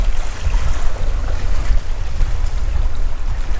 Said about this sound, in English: I've never seen waves like this in such a small body of water.